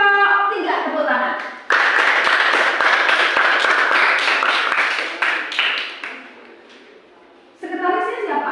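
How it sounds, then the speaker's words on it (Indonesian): Students in a school classroom clap together during a lesson, a dense burst of applause lasting several seconds before tapering off, with a teacher speaking before and after. "Kepada kelompok 3, tepuk tangan."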